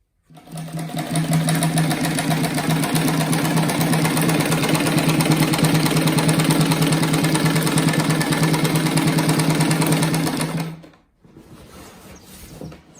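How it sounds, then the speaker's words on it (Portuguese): A sewing machine stitches a round fabric-scrap patchwork rug, running as a loud, steady mechanical whir for about ten seconds before stopping abruptly. Quieter room noise follows. "Agora eu vou na máquina e passo uma costura aqui"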